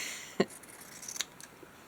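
Scissors snip through a thick fabric patch, with two sharp cuts close by, one near the start and another just past the midpoint, followed by faint rustling.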